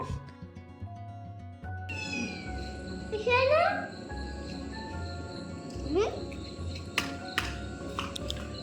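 A cat meows several times in rising, drawn-out cries while someone talks in the background.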